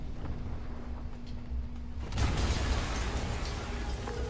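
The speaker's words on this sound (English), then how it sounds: "Yuri, an explosion just... I saw it." An explosion in the Spider-Man PS4 game: after a steady game-ambience hum, a sudden broad, rumbling blast erupts and then sustains as a loud, noisy roar.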